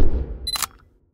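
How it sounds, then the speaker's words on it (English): A single crisp camera shutter sound effect snaps near the end, clean and close, following a fading low whoosh that tails off into silence. "I think I'm going to use a little camera shutter sound to kind of close it out"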